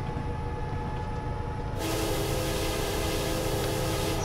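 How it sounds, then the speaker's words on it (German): Union Pacific SD70ACe locomotive horn in Train Simulator 2020 sounding at a grade crossing: a loud, sustained blast that swells in at about two seconds over the steady rumble of the rolling train. "Kein Problem für unser Horn."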